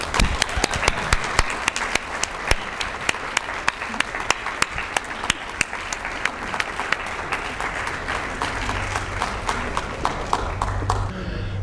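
Audience applause welcoming Dr. William Harris to the stage at a talk, a steady wash of many hands clapping with sharp individual claps standing out, fading toward the end.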